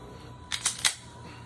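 A Taurus G2/PT111 pistol with a Lakeline threaded barrel is cycled by hand and fails to feed, giving three quick close metallic clacks of the slide over faint room noise.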